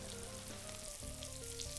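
Steady, close crackling sizzle of food frying in a hot pan, continuous and fairly quiet with no voices.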